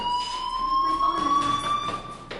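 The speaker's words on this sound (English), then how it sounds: "Hey, do you hear that fire alarm?" A fire alarm rings inside a PS4 video game as a steady, continuous electronic tone held for about two seconds over a low background hum.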